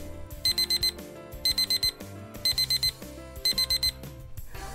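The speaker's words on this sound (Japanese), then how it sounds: "スマホのアラームをかけておいたんですよ" A smartphone alarm rings in four repeating bursts of rapid beeps, loud and close, over a steady background tone, with no one talking.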